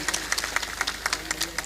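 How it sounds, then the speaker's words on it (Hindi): Audience clapping at a Hindi poetry recital (kavi sammelan) in Hathras, a thin scattering of claps repeating irregularly across the short stretch, moderately loud over a low steady hum. "जोरदार तालियां बजाइएगा"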